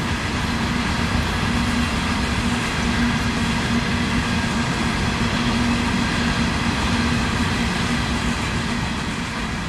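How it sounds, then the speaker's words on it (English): An empty CSX coal train, TO85, returning from Tampa Electric's Big Bend Power Plant to Bailey Mine in Pennsylvania, rolls past in a steady, loud, continuous rumble of wheels and cars with a sustained low drone and no voices. "TO85 is Tampa Electric coal out of Big Bend Power Plant, running back empty to Bailey Mine in Pennsylvania"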